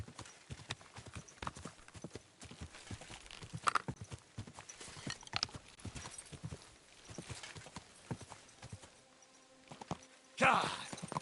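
Steady clip-clopping of a horse's hooves in Kingdom Come: Deliverance II, close and continuous at a walking pace, with a voice heard briefly over the hoofbeats.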